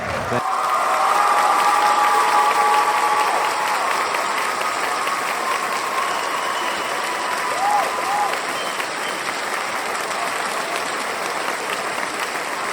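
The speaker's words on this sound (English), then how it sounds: "let's have an Earthkeeper round of applause" A lecture audience giving a round of applause for a speaker, a sustained, dense wash of clapping from a sizable crowd that swells early and holds steady before gradually thinning out.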